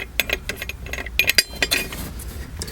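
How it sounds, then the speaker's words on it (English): Air cleaner bolt being unscrewed from the top of a Chevrolet TBI fuel injection engine, a close series of light metallic clinks and ticks in an irregular rhythm, no talk. "take off the air cleaner. Just unscrew the bolt in the top of it."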